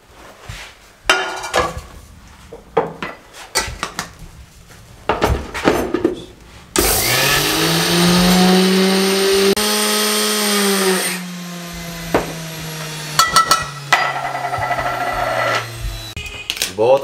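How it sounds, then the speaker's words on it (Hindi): An electric mixer grinder whirring in its small spice jar, finely grinding spices in a loud, sustained burst of several seconds, framed by clattering handling sounds and a voice talking before and after. "इसके साथ का जो ग्राइंडर का मिसाले पीसने वाली जो डब्बी होती है, इसके अंदर इसको शामिल कर दें इस तरीके से और इसको ग्राइंड कर लें"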